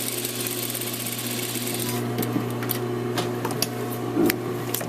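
A sewing machine runs a basting stitch along a shirt hem, a steady fast mechanical whir with a continuous motor hum, and a few small clicks and taps near the end.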